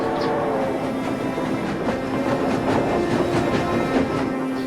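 A refugee train rolls steadily along the rails, its wheels beating a repeated clickety-clack over a continuous rumbling hum, moderately loud with no talk.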